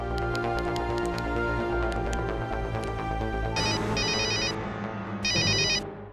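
A mobile phone ringing in the Chhota Bheem cartoon, a steady looping electronic ringtone melody that keeps playing, with bright, beeping bursts layered in toward the end, loud and close with no talk.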